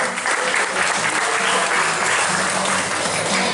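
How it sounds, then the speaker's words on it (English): An audience at a magic show at Six Flags Great America claps in a full, sustained round of applause, loud and continuous from start to finish with no pauses. "Nice round of applause for Nola."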